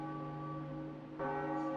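A bell tolls in The Legend of Zelda: The Wind Waker, a sustained ringing tone that fades out and is then struck again near the end, clear and alone with no talk.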